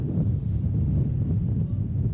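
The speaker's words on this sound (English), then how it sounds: "We have just got the biggest gust of wind going on just now." Strong wind gust buffets the microphone at an outdoor women's university rugby match in Edinburgh, a loud continuous low roar and rumble filling the whole moment with no clear talk.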